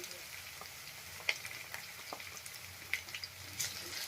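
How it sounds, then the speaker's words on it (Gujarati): Finely chopped potatoes sauté in a pan, giving a faint, low sizzle with a few scattered light clicks and taps from stirring, quiet and without talk. "હવે આપણે એમાં બટેટા એડ કરી દેશું। એકદમ ઝીણા કાપીને લીધા છે।"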